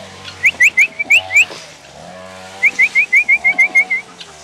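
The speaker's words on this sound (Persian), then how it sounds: "همه رو با سوت صدا میکنم" Repeated sharp rising whistles, a burst of about six then a longer run of eight or so, call the household's farm animals and pet dog Hiro to gather, with faint background sounds between the whistle groups.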